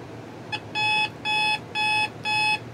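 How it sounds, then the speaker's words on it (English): A Coby clock radio alarm sounds in four loud, evenly spaced electronic beep bursts, each about half a second long, close and clear in a quiet room. "Here's our alarm."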